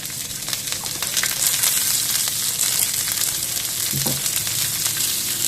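Coconut oil sizzles and fries steadily in a hot pan ahead of cooking dosa, a dense, even crackle running the whole time with a brief low clatter near the end, close and fairly loud with no talking.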